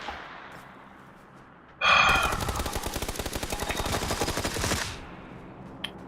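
Video game gunfire bursts out suddenly as a loud, rapid automatic volley of evenly spaced shots that lasts about three seconds and then stops, leaving a quiet background.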